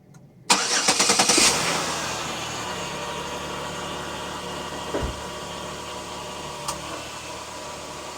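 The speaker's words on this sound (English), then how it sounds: "Let's see if it turns over a little more whippier than it did this morning" A 2011 Chevrolet Impala engine cranks in a short burst of rapid starter pulses, catches and settles into a steady idle, heard close with no talking and a couple of faint knocks later.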